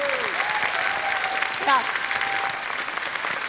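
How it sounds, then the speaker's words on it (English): Audience applause at a panel discussion honoring the moderator, a steady wash of clapping throughout with a brief spoken word and some voices mixed in. "Can we all have a round of applause for Sonam?"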